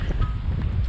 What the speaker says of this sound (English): I don't know if you can hear me, it's super windy.